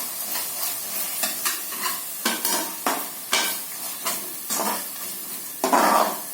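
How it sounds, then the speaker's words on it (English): Spices being stirred in a frying pan for mutton falafel, repeated rhythmic scraping strokes over a constant sizzle, close and fairly loud. "just give it a nice stir"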